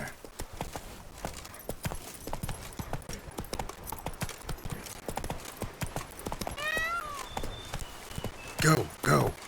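Steady clip-clop of a galloping horse in The Witcher 3, with rapid hoofbeats running throughout, a rising whinny near the end, and a voice speaking over the hooves.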